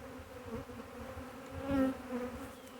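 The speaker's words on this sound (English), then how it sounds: "That's a big swarm of bees, boys and girls." A large swarm of honey bees hanging on a trap gives off a continuous close, droning buzz that swells slightly, with no voices over it.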